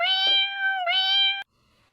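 Two drawn-out cat meows, the second following closely after the first, loud and near, then silence.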